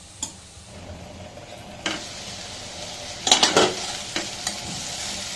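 Bottle gourd pieces with tamarind cook in a pan under a low steady sizzle, punctuated by scattered utensil taps and a cluster of sharp metallic clinks and scrapes midway, close with no talking.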